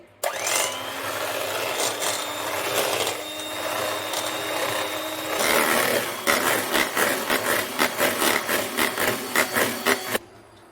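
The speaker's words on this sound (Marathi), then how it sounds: "एक cup whipping cream cream bit करून घेते" An electric mixer beats one cup of whipping cream for homemade Raj Bhog ice cream, a close, continuous whirring buzz that shifts into rapid rhythmic scraping pulses against the bowl before stopping.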